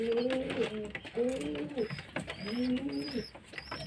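Pigeons kept in a home loft coo close by in repeated rolling phrases, roughly three bursts in a few seconds, with faint higher chirps between them.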